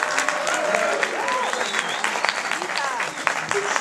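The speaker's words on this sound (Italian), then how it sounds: "Facciamo un applauso." Audience applause at an industrialists' union event in Naples, a steady patter of clapping throughout with scattered murmuring voices and some tonal sounds mixed in.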